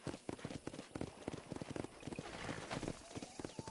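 Horse hooves clip-clop in a Western video game, in quick, irregular close thuds at a trotting pace, with faint game ambience.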